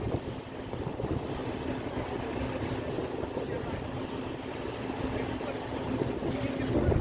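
A speed boat runs across the water, giving a steady rumbling wash of engine and spray with heavy wind noise buffeting the microphone, continuous and close throughout.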